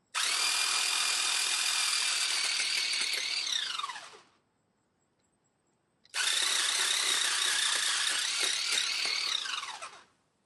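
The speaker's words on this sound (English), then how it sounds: "So that was the Seyvum cordless pole chainsaw." A Seyvum cordless pole chainsaw cuts through a tree branch in two loud, steady bursts of high electric whine, each running about four seconds and winding down, separated by a short silence.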